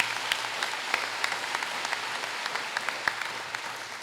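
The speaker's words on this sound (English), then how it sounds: "give your Board of Education a big round of applause" Light, scattered clapping from a modest audience at a school district convocation, steady and fairly soft, with a few sharper individual claps standing out.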